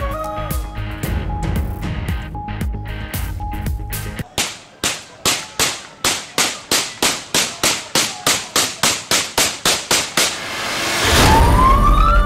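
Celebratory gunfire by political party workers after an Awami National Party election win: a long run of sharp, loud shots, first ragged and overlapping, then a steady rhythmic series of about twenty evenly spaced bangs, ending in crowd noise.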